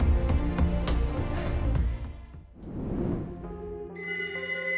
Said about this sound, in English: The Wildlife Foundation received a satellite phone call.